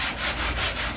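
A heavy sanding block rubs back and forth over painted metal in steady, broad hissing strokes, about five passes in a second, close and fairly loud with no talking.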